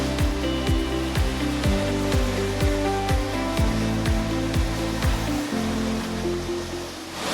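A Pallmann Spider floor sander runs steadily with a droning motor hum, its pitch repeatedly dipping and recovering in a rhythmic pattern as the RPMs adjust against a high spot in the floor.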